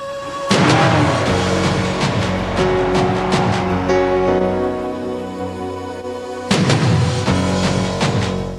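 A Peugeot 406 saloon is driven hard on the Silverstone racetrack, its engine a loud, steady drone that rises and falls in pitch as it works through gear changes, with a sharp surge near the end.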